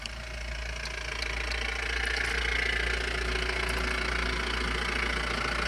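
A large vehicle engine idles steadily nearby, a continuous low rumble with a slight knocking texture and no voices throughout.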